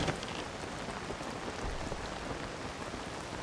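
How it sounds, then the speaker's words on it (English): Steady rain drums on a paraglider's canopy in the video game Zelda: Tears of the Kingdom, a dense, even hiss of close drops that holds constant without pause. "Hear the sound of the rain falling on the paraglider."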